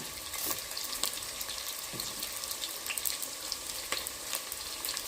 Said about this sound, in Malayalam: ഇന്ന് നന്നായിട്ട് നമുക്ക് ഈ വെളിച്ചെണ്ണയ്ക്കകത്തൊന്ന് മൂപ്പിക്കാം ഇതിനകത്തോട്ട് തന്നെ ഒരു രണ്ട് തണ്ട് കറിവേപ്പില കൂടെ ചേർത്ത് കൊടുക്കാം